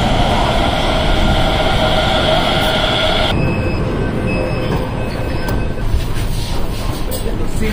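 A Delhi Metro train runs with a steady loud rumble and high whine; the whine drops away midway as the car keeps rolling, with no talk.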